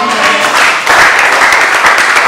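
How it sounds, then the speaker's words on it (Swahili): A crowd claps steadily and loudly at a church service, the applause swelling slightly partway through and continuing without pause. "Mchapie Yesu makofi. Clap the hand for your"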